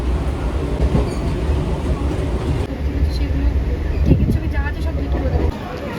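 A train rumbles at a busy station, a low continuous rolling and rattling with some wheel squeal, while people talk over it nearby.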